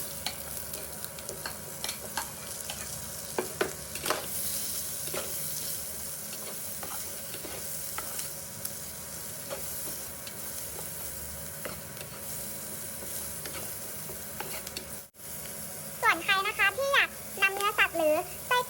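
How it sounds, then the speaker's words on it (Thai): Onion and bacon stir-fry together in a pan for spaghetti carbonara, a steady close sizzle with scraping stirs of a utensil, and a voice chattering near the end. "จากนั้นนำหอมหัวใหญ่ลงไปผัด ให้เข้ากันกับเบคอน"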